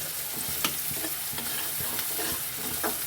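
Chopped onion with a little salt fries in a pan while a spoon stirs it, giving a steady sizzle broken by regular scraping and tapping strokes, close up with no talking.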